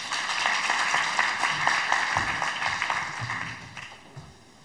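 An audience at a social enterprise forum applauds a presenter being introduced, a brisk patter of many hands clapping together that thins and fades toward the end.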